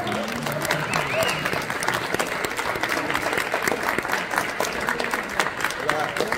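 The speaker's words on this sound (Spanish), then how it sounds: "Fuerte el aplauso a esta persona que hace un gran personaje como todos." Sustained applause from a theatre audience greeting a cast member at the first cast presentation of the stage production Perfume de Gardenias, dense and steady throughout, with some cheering and a voice heard briefly over it.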